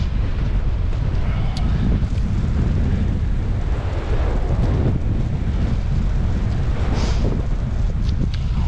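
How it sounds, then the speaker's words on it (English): Wind roars steadily across the microphone of a cyclist riding through Birmingham in the rain. The deep, continuous buffeting is loud and close throughout, with no voice over it. "Wow, it's windy."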